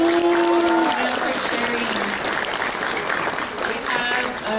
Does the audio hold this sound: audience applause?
yes